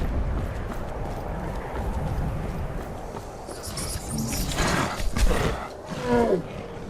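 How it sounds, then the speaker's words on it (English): A troll roars in the video game Skyrim, a rough, growling bellow that swells out of a noisy outdoor backdrop with clopping and scuffling sounds, loudest near the end. "That sounds like a troll."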